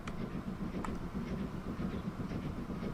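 An oil train rolls along the tracks in the railway sim Transport Fever 2, giving a steady low rumble with faint rhythmic clacks, moderately distant and without talk.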